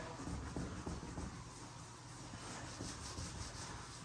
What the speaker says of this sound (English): Need a good bit of sand on that bumper and stuff.